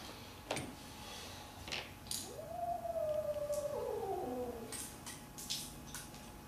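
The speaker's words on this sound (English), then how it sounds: "Cat isn't happy out there." A cat yowls outdoors in a long, wavering rising-and-falling cry, heard at a distance and faint, with scattered clicks and knocks nearby in a workshop during a VW carburetor rebuild.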